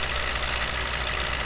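Tractor engine in the video game Farming Simulator 15, driving over a broken gravel road, a steady rough mechanical drone with vibration, loud and continuous without speech.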